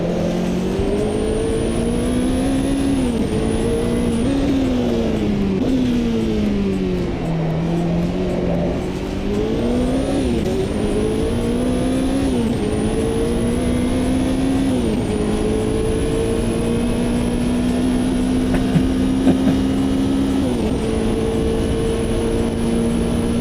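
Race car engines in the AMS2 racing game, a continuous loud high-revving drone with gear shifts and pitch swells as cars pass and overtake.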